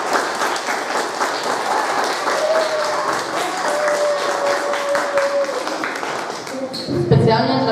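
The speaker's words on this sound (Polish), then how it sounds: "Oklaski dla wszystkich dam." Sustained applause from an audience at a Women's Day celebration held by a fire brigade in Kosina, steady dense clapping throughout with a voice speaking briefly underneath near the end.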